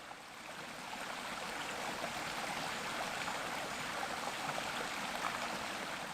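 A stream gurgles and rushes steadily, a continuous wash of water noise that swells slightly at the start and then holds even.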